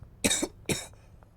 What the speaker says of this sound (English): Sorry, I didn't mean to cough right into the microphone.